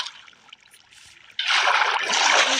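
Water poured in the Minecraft video game starts as a faint trickle, then turns into a louder, steady rushing flow halfway through, with no talking.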